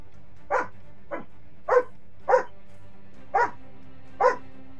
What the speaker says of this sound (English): Yara, why do you bark?